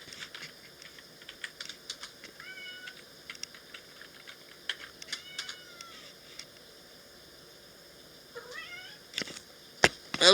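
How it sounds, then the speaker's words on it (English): A house cat meowing to be let outside, several short, faint mews scattered among light computer-keyboard typing, with a louder, closer cry near the end. "I've got a cat trying to claw me back to go out."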